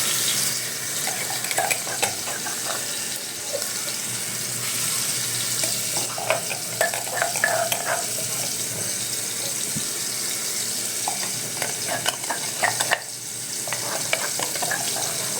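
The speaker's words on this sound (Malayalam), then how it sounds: "ഇഞ്ചി വെളുത്തുള്ളി പേസ്റ്റ് അത് നമുക്ക് ആദ്യം ഇടാം" Ginger garlic paste fries in a pan while being stirred, with a steady sizzle and scattered scraping clicks running throughout, close and even in level, with no talking.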